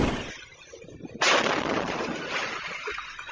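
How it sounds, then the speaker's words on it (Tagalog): Firecracker blast in Santa Barbara, Pangasinan, a sudden loud boom with a shockwave rush that stays loud and noisy for a couple of seconds before easing. "Sa Santa Barbara, Pangasinan, may shockwave ng pagsabog na nahulikam din."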